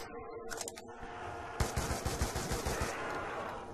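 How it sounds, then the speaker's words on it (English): Rapid bursts of light machine gun fire in a zombies video game, with dense, loud, closely spaced shots over continuous game background sound. "It's a light machine gun, kind of like the RPK, even a little bit, in a sense"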